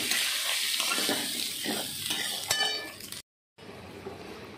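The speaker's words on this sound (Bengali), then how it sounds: "একটু ভেজে নিই।" Rice sizzles and crackles as it is fried and stirred in a hot pan, with scraping and light clinks of a spoon, before a brief cut to silence and then a quieter sizzle.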